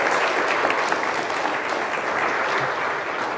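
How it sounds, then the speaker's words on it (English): A church congregation applauds Lads to Leaders participants with dense, sustained clapping that stays even and full throughout, heard close with no distinct voices over it. "give yourselves a big round of applause for the good job that you did this year in Lads to Leaders."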